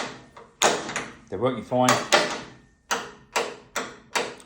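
Zinc-plated door handle and locking mechanism being worked by hand, giving a run of sharp, close clicks and clunks at an uneven pace, with someone talking briefly in between.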